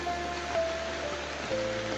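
Heavy rain falls near banana trees in a rural yard, a steady broadband hiss of downpour on surfaces with a faint tonal whine running through it, continuous and moderately loud with no speech.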